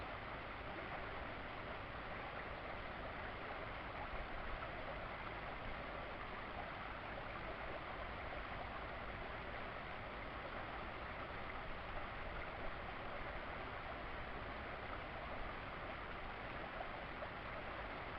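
Deep river water flowing, a steady, even rushing wash that holds at the same faint level throughout with no breaks or voices.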